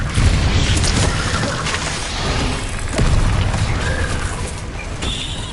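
Incendio fire spell cast during combat in the Hogwarts Legacy video game: loud, booming whooshes of flame with heavy low rumble, swelling twice in dense, continuous battle noise.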